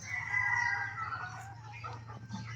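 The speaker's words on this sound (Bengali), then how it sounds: "ওই যে দেখেন আমার ছোট্ট শখের খামারের মোরগ" A rooster on a small farm crows once at moderate distance, a drawn-out call over low background hum, followed by faint clucking.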